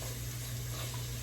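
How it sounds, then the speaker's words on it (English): Hamburger and bacon browning together in a pan for a bacon sriracha chili give a steady, faint, brief sizzle over a low background hum. "Alright, the hamburger's browning nicely. Mixed in with the bacon."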